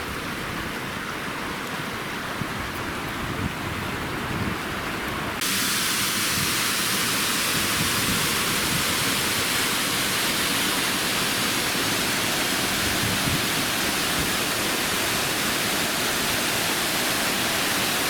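Water rushing past old water mills beside a river in the volcanic Azores landscape, a steady, loud broadband roar that thickens and grows louder a few seconds in, then holds constant with no voices.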